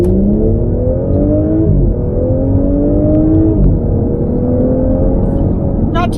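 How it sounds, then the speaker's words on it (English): A 2020 Audi S4 in dynamic mode accelerates hard from 0 to 60, its engine note climbing loudly through the gears with brief dips at each upshift, heard from inside the car. "the first thing I'm gonna do, 0 to 60. Here we go, in dynamic mode."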